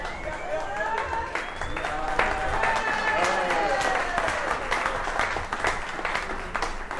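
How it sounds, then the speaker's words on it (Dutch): Steady standing applause from a crowd at a farmers' wedding celebration, dense clapping filling the whole stretch, with voices mixed in beneath. "Ik heb staan en applaus."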